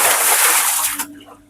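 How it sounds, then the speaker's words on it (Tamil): Water poured from a bucket to rinse boiled peanuts, a loud, close rushing splash that cuts off abruptly after about a second and leaves a quieter trickle. "இந்த வாளியால தண்ணி அள்ளி வழியால ஊத்திட்டு பிறகு திருப்பி தண்ணியை விட்டு கழுவிட்டு"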